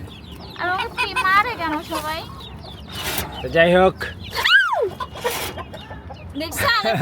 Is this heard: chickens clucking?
yes